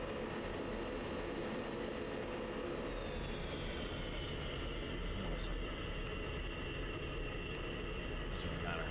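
An F-16 taxiing on the ground in a flight simulator game, with a steady, continuous jet engine whine and rumble that holds level throughout and has no voices over it.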